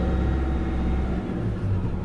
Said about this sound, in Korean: 방금 이렇게 엑셀 밟다 보니까, 엔진이 약간 시끄러워지죠?